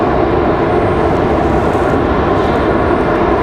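JetBlue jet airliner arriving from Fort Lauderdale at Raleigh-Durham International, a loud, steady broadband engine roar held close and constant throughout with no voices.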